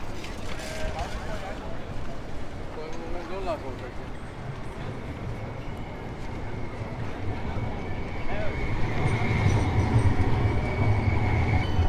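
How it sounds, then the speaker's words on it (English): A tram passes along a busy Amsterdam street during a bike ride, a steady rolling rumble that grows louder toward the end, with street noise and people talking throughout. "If I'm not mistaken, this is the tram I took last night."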